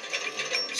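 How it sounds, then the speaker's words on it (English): A rattling on a cartoon steam engine's boiler, heard as a brief, steady metallic ratcheting clatter with a few pulsing bursts, fairly close and alone with no talk. "Something is rattling on your boiler."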